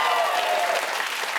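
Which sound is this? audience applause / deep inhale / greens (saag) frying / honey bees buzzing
audience applause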